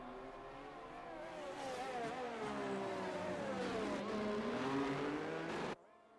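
Race car engine at Circuit of the Americas in a racing game, revving up and shifting through gears with rising and falling whines, loud and close, cutting off abruptly near the end.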